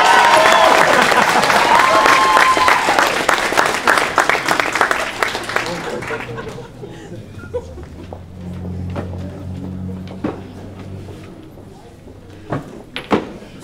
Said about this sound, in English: can we have a round of applause for our own Mayor Henry, please?